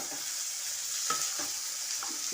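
Onion, green chilli, spring onion and carrot frying in white oil for Chinese rice, a soft constant hiss broken by a few light spatula clinks and stirring sounds.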